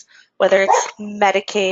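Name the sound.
dog barking in the background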